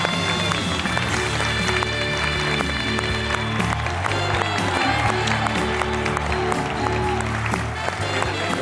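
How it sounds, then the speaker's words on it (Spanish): A television studio audience applauds the arrival of guest Patrick Criado, with sustained clapping blending into loud, continuous band music. "Un fortísimo aplauso para Patrick Criado"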